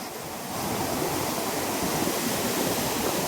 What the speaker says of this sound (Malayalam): ഒരു രക്ഷയില്ലാത്ത വെള്ളച്ചാട്ടം. ഇത് വൈബാന്ന് നോക്കിയത്.